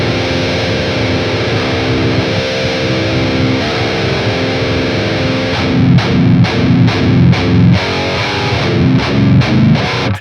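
Distorted electric guitar heard through a vintage ribbon mic combined with a DT990 headphones impulse response, a thick, dark sustained chord that breaks into rhythmic chugging stabs midway, loud and close.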